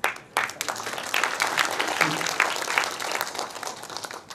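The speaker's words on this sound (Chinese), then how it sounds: "来拍拍手，非常感谢您出席" An audience at a university lecture event in southern Taiwan breaks into sustained applause, many hands clapping densely and evenly at moderate loudness, without speech.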